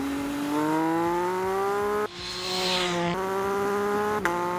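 A 2024 MV Agusta Enduro Veloce motorcycle engine revs up through rising pitch in steady climbs, with brief dips between gears, loud and close with no talk.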